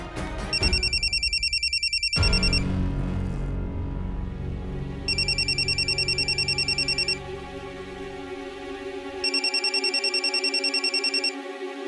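Telephone bell ringing in three separate bursts of rapid electronic trills, loud and close, with a music score running underneath.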